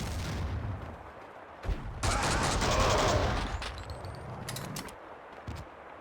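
Kalashnikov rifle fire in the Max Payne video game comes as rapid bursts of shots over a rumbling game soundscape, loudest in a sustained burst midway, with sharp cracks scattered toward the end.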